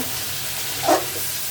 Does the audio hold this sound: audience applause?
no